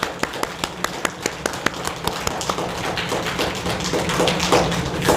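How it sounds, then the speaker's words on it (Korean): A church congregation at a Sunday service applauds its youth: a run of crisp, regularly spaced claps that swells into a denser, rougher wash of clapping from many hands. "우리 박수로 뜨거운 박수로 응원하고 격려하도록 하겠습니다."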